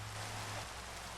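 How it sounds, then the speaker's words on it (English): Steady, even rain hiss in Minecraft's FTB Sky Factory 3 modpack, a broad continuous wash with a low hum fading out partway through, no voices. "It's still raining."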